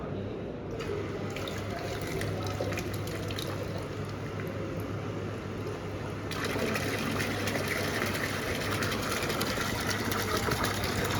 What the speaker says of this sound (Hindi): ये अब हमारा पानी भर रहा है